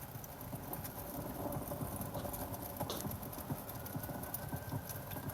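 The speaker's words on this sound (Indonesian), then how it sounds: "Oke, ada perapiannya." A crackling fireplace soundscape plays through the speakers of a Hyundai IONIQ 6 electric sedan: dense, irregular pops and snaps over a steady low hiss, fairly quiet and continuous, with no voices.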